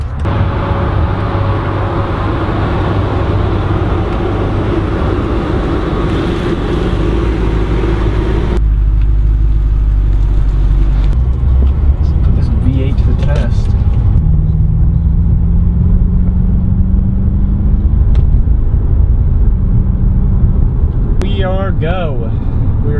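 A BMW 645ci convertible on a test drive gives off a loud, close engine rumble and road noise that runs without a break under people talking.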